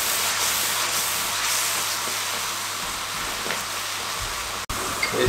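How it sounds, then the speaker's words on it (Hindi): Murgh Musallam masala with kasuri methi and khoya frying in a pan, a continuous close hissing sizzle that holds steady throughout with a brief break near the end. "अच्छे तरीके से 3 मिनट तक इसकी भुनाई कर लें।"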